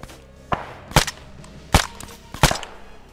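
Sharp gunshots in Arma 3 on the Stratis map, four distinct cracks spaced irregularly about half a second to a second apart, fairly loud against a quiet hiss.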